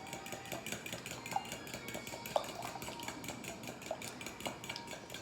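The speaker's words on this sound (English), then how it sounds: "I actually don't have a whisk clean right now, so I'm just gonna use a fork. But you're just gonna mix all these up." A fork beats eggs in a bowl, giving a steady run of light clinks and scrapes against the dish with a few sharper taps, close and fairly quiet, with no talking.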